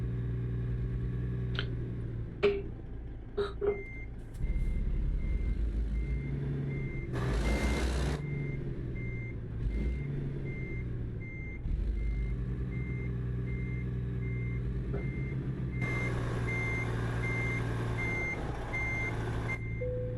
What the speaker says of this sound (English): I know I'm driving past the icon, but I want to reverse into it.